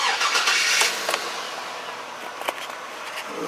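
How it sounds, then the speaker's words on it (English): A 2002 Chevrolet Avalanche 2500 with 183,000 miles starts up from a partly warm engine, with a brief crank and catch followed by a steady hissing idle. It is heard close and alone. "So I think I'm going to fire up the motor"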